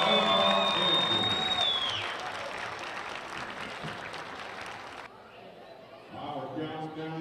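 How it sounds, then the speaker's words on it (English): Crowd at a university women's basketball game applauding the cheerleading squad, a steady wash of clapping and cheering with a whistle-like tone early, then quieter crowd noise and a voice near the end. "How about another round of applause for the University cheerleading for Oklahoma Andrews"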